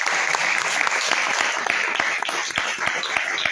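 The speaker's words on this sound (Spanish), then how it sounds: "Le paro un aplauso al Señor." A church congregation bursts into applause, with dense, continuous clapping from many hands throughout, loud and close, with a few sharper individual claps standing out.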